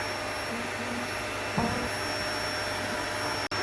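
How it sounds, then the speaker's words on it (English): Vacuum cleaner running near a beehive, a loud, steady whining roar with high tonal lines, a small bump midway and a brief cut near the end, no speech. "I have done lots of vacuuming"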